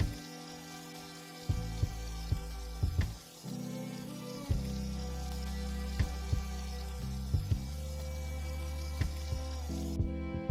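Duck fillet sizzling steadily in a hot pan, a continuous close frying hiss with faint crackles and pops throughout, no talking.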